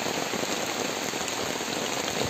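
Heavy rain pours down steadily outdoors, a dense, continuous hiss of drops drumming on surfaces, loud and unbroken with no voices.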